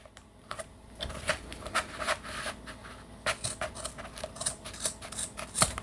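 Scissors cut through material for a cosplay power sword holster, giving a run of sharp, close snips in an uneven rhythm that grows busier toward the end, with no talking.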